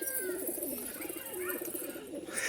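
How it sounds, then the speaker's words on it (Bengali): Pigeons cooing close by, a flock of fancy pigeons giving soft, rolling repeated coos that overlap in a continuous murmur against a faint background hiss. "একসঙ্গে রয়েছে অনেকগুলো পায়রা দেখতে পাচ্ছেন ভিউয়ার্স।"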